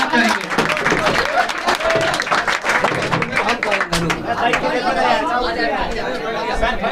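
Clapping and cheerful chatter fill a room at a Teacher's Day celebration in a physics class as a teacher is welcomed to cut a cake, steady applause running throughout under overlapping voices.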